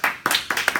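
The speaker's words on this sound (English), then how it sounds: "I think that deserves a round of applause" A short burst of audience applause after a talk, a handful of distinct hand claps heard close by in under a second.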